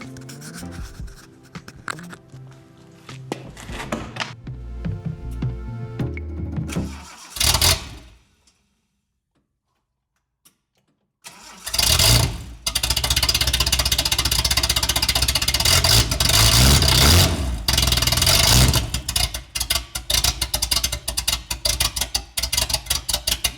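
A cheap supercar with straight-piped exhaust runs and revs, then goes silent for a few seconds before a loud start and sustained, very loud revving with sharp blips near the end.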